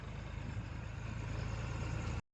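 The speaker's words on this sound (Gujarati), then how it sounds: "રોટાવેટર વાળું પણ ટ્રેક્ટર આવી ગયું છે અને ફૂકણી વાળું પણ ટ્રેક્ટર આવી ગયું છે" A steady low tractor engine idle rumbles continuously, close by and fairly even, then cuts off abruptly at the end.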